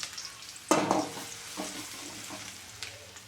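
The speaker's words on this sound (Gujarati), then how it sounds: "તેલ ગરમ થઈ ગયું છે તો આપણે એમાં પહેલાં લસણ નાખી દઈએ" Garlic dropped into hot oil for vegetable Manchurian gravy gives a sudden loud sizzling burst that settles into a softer crackle, with a few brief stirring scrapes close by.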